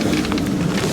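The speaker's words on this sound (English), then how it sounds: "It just started raining pretty hard." Heavy rain pouring down on a stormy coastal road trip in Maine, a dense, steady hiss of drops drumming on surfaces, loud and continuous throughout with no voices.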